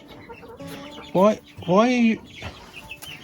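Backyard homestead chickens clucking close by in two loud, drawn-out bursts, with a short spoken word between them.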